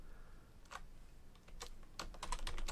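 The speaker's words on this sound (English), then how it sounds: "Finish typing it correctly" Typing on a computer keyboard while coding an ESP32 for model trains, quiet scattered key clicks, sparse at first then quicker bursts of several keystrokes close by, with no talking.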